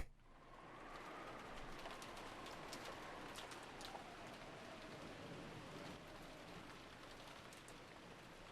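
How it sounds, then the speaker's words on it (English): Steady rain patters on surfaces in a quiet Umineko When They Cry visual novel scene, a soft even hiss throughout with faint bird cooing in the background. "it was very quiet, filled only with the sound of the rain"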